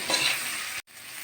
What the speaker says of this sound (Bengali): আলু বেগুন সুন্দরভাবে ভাজা হলে আমি নামিয়ে নিচ্ছি